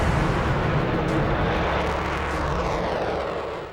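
An Avro Vulcan bomber flies past with a loud, broad, continuous engine roar that holds strong and then gradually fades toward the end.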